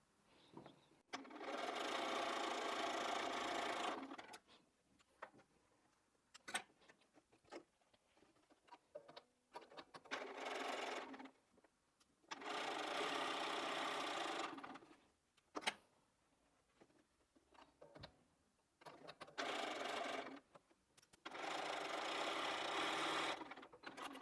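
A sewing machine stitches patchwork pieces for a charm pack heart wall hanging, running in four steady bursts of a few seconds each, separated by quiet pauses with small handling clicks.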